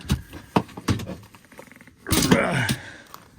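Fiamma 480 awning on a camper van being unclipped and drawn out, with a few sharp clicks and knocks early on followed by a louder scraping, sliding rush of movement close by.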